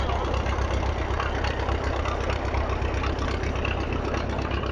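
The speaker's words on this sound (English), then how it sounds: "the tractor in the background that you can hear I've just filmed" A heavy Detroit tractor engine idles steadily and close by, a low continuous throb with no talking.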